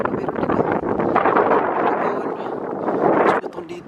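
Strong wind buffeting the microphone outdoors, a loud continuous roaring gust that swells and eases over several seconds.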